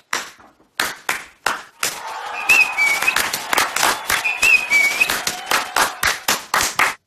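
A small crowd claps in bursts of rhythmic, fairly close applause, with a couple of short whistles rising above the clapping partway through; no one speaks.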